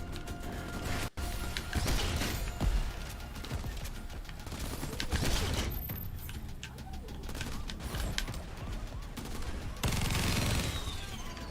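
Dense, loud in-game explosions and gunfire from the open-world shooter Crackdown 3 fill the whole stretch, with repeated booming bursts and crackling volleys layered over constant rumbling action.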